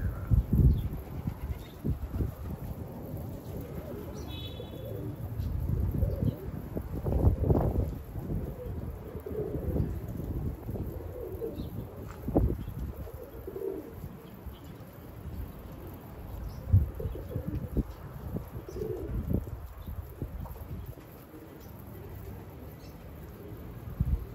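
A runaway tumbler pigeon coos in low, soft, repeated murmurs close by, with intermittent bursts over a quiet background that come and go for over twenty seconds.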